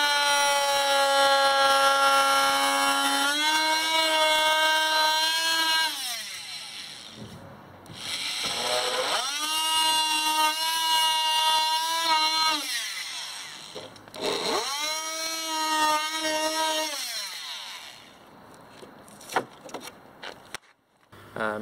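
Dewalt DWE315 oscillating multitool fitted with a 100mm semicircle multi-blade, its loud, whining buzz rising as it starts and falling as it stops, in three separate runs of a few seconds each, close up with no talk.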